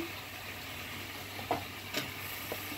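Pumpkin goes into a pan already frying small shrimp and pui greens, a low steady sizzle with occasional stirring scrapes and soft knocks, fairly quiet throughout.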